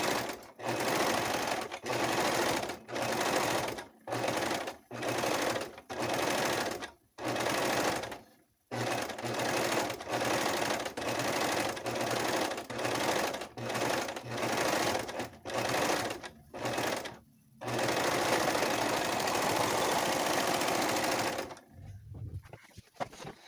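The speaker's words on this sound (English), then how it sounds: "It'll be off to the sewing machine next." Sewing machine stitching a plus size tank top in repeated bursts of rapid, close mechanical whirring, separated by short pauses, with one long continuous run near the end.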